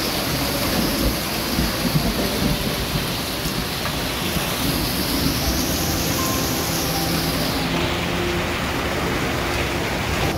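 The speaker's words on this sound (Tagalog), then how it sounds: "Naku, lakas na ng ulan." Heavy, steady downpour with low thunder rumbling beneath it, a dense, loud roar of rain that fills the whole stretch without letup and carries no voices.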